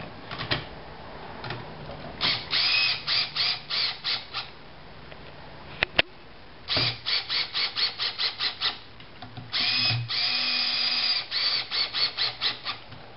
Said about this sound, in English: Here I'm just using a screw gun to send the screws down pretty far, but not tighten them up quite all the way.